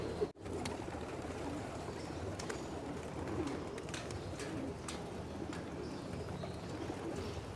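Racing pigeons coo softly at a loft and aviary, low repeated calls that are faint and somewhat distant over a steady outdoor background hum.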